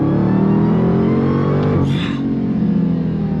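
A 2022 Dodge Challenger Super Stock accelerates hard from a roll, a loud, steady, deep V8 roar filling the cabin, with a brief higher whoosh partway through as the engine pulls on.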